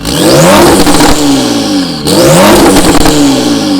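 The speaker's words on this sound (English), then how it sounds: "He did the Klein headers, which really, really wake up this exhaust sound." Porsche with Klein aftermarket headers and an APR Stage 1 tune at 470 horsepower, two loud close exhaust revs, each rising and falling in pitch, separated by a brief dip.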